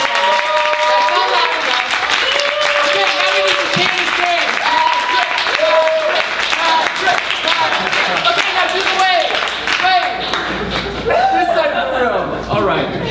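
Applause from an audience at a poetry book launch at Malvern Books, welcoming the poet to the stage; dense, steady clapping throughout, with voices and cheers mixed in.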